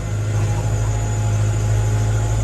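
A new tractor, a Turkish-built TS110, TD110 or TD100 model, drones steadily while driving, giving a loud, constant low engine hum with no talking.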